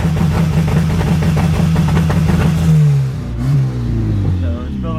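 A boosted Honda Accord with an F23 engine revving hard, a loud droning rev held for a few seconds then dropping and rising again, close and dominant, with a voice briefly audible.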